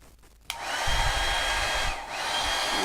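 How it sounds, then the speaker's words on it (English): A handheld blow dryer switches on with a click and blows steadily at close range over a snow globe piece, dipping briefly in pitch midway before carrying on in a constant whooshing whine. "Let me get my blow dryer. We're going to blow dry this piece for a minute."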